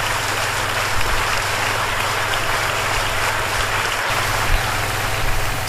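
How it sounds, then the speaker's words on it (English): A large audience at a racing arena event applauds continuously, a dense steady wash of clapping at even loudness throughout, with no voices over it. "Big round of applause, everybody!"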